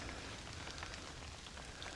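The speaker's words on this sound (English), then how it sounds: "Just in time. Starting to rain." Light rain begins falling at a campsite, a soft, steady patter of drops on surfaces, faint and continuous with no voices.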